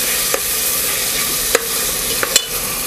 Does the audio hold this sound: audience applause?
no